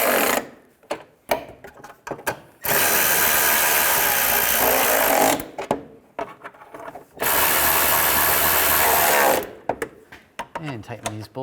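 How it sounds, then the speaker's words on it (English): Power tool whirring in two long sustained runs while tightening bolts on the A/C condenser of a 1998-2010 Volkswagen Beetle, with clicks and handling noises around the bursts and a voice speaking in between. "And tighten these bolts down."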